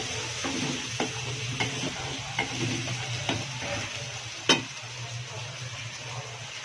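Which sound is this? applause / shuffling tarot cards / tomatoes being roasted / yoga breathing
tomatoes being roasted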